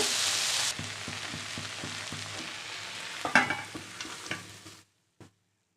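Malabar spinach seeds with a pinch of sugar sizzle in a pan while a spatula scrapes and taps in regular strokes, close and fairly loud, then the sound cuts off.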